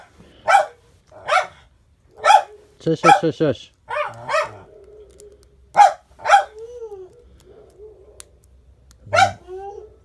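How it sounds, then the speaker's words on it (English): Neighborhood dogs, including large standard schnauzers, bark in repeated sharp bursts with yips and whimpers, fairly close, while a person shushes them between barks. "the puppies in the neighborhood are barking, and my dogs"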